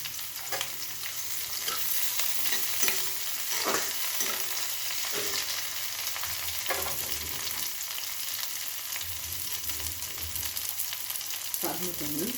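Beans and cauliflower frying in a pan, giving a dense, even sizzle throughout with occasional spoon scrapes and knocks as the vegetables are stirred, close and steady with no talking.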